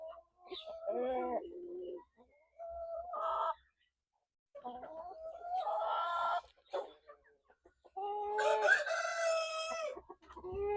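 Rhode Island Red chickens in breeding pens cluck in short bursts, and a rooster lets out a loud crow near the end, with quiet gaps between calls.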